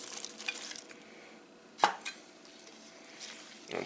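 Chopped vegetables being stirred and turned into kimchi paste in a bowl, soft wet squelching and rustling with one sharper clack midway, close and fairly quiet, no voices.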